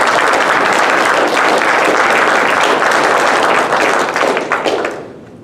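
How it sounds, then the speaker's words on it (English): Audience applause at an annual meeting, a dense, loud wash of clapping from a large crowd that holds steady for several seconds and then fades out near the end. "Now, one more round of applause."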